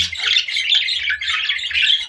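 A newly paired couple of budgerigar parrots chirp and squawk in a steady, chattering stream, close by and fairly loud. No voices are heard.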